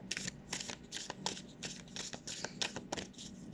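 Playing cards shuffled for a tarot-style card reading, a rapid run of crisp riffling bursts repeating in a steady rhythm, close and clear with no talking.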